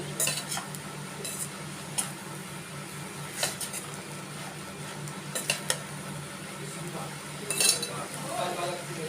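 Fried meal maker is stirred into an amaranth leaf curry in a pan on low heat, a spoon clinking and scraping against the metal now and then over a soft steady background hiss.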